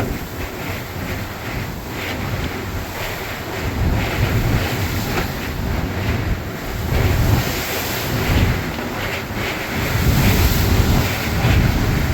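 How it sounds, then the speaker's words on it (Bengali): A Kalbaishakhi storm at sea, with strong wind buffeting the microphone over crashing, surging waves around a boat; the roar is loud and continuous, swelling in gusts, with no voices. "অনেক বাতাস, বিশাল বড় বড় ঢেউ।"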